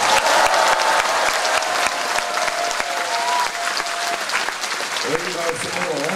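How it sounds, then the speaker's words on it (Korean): A crowd applauds steadily and loudly throughout to approve co-leaders at a new political party's founding meeting in the National Assembly, with dense overlapping clapping and crowd noise. "의의가 없으시면 박수로 채택해 주시기 바랍니다."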